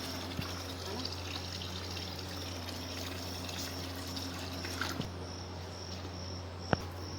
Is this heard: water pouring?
yes